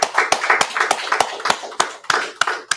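A small class claps at the end of a law and history session, sharp sparse handclaps from a few people in an irregular rhythm, close and fairly loud.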